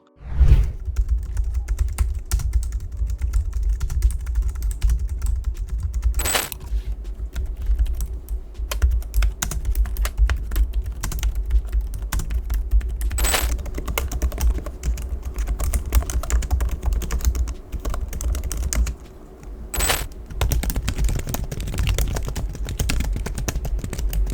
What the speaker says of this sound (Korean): 타건음과 키보드 크기. 기본적으로 노트북 그리고 맥북 타건음이랑 비슷합니다.